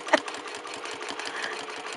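A sewing machine does free motion quilting with rulers, a rapid steady mechanical chatter of stitching at close range, opening with a short sharp click, with no voices.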